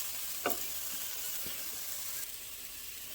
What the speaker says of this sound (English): Now in the center, I'm going to go ahead and add the onions.